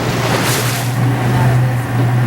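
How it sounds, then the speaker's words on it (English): A motorboat engine runs steadily on open water during an evening sailboat race, a constant droning hum mixed with wind and wave wash, loud and close throughout. "our young instructor Kevin, who's driving the boat now"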